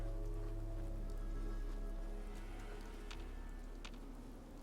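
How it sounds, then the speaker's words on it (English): Steady rain falls at night in the video game Fallout 4, a constant dense patter with a low hum beneath it, broken by a few sharper drips and splashes, and no voices over it. "traveling in the rain at night"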